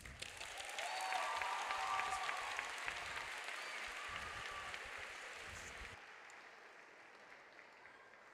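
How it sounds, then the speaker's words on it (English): An audience claps for the narrators before a Christmas poem performance, with moderate applause and a few cheers building then dwindling until it cuts off abruptly near six seconds, leaving quiet room tone. "Big, big round of applause, please."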